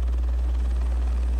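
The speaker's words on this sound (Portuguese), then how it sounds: "O helicóptero tá aqui em cima," Police helicopter hovering overhead in GTA San Andreas, a steady loud rotor drone with a deep low thrum, continuous and alone.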